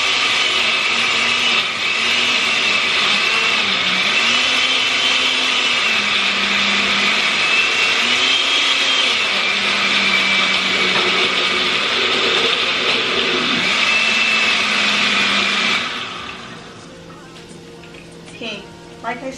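A kitchen blender whirs loudly and steadily, chopping peppers for a family dinner, its pitch wavering as the load shifts, with a voice talking over it; the motor stops near the end and quieter rattling follows.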